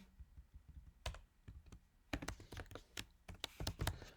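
Code being typed on a computer keyboard in uneven bursts of close, crisp key taps, with a few short pauses between the runs.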